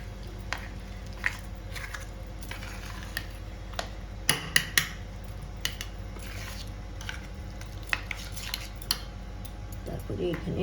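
A spoon clinks and scrapes against a bowl as egg pakora batter is mixed with water, soft scattered taps and a few sharper knocks against a low steady background hum.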